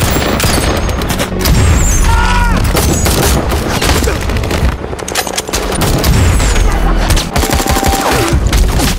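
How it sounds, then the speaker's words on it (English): A bomb blast and gunfire in a war film scene with terrorists attacking: dense, continuous rapid gunfire and heavy booms fill the whole stretch, loud and close, with only faint voices underneath. "a bomb detonated in front of him"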